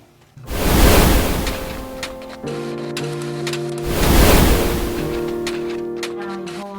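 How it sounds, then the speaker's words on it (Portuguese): Soft rushing surf swells and fades twice, a hollow ocean-like roar with faint tones underneath, heard close as if held to the ear. "Tô ouvindo o barulho do oceano."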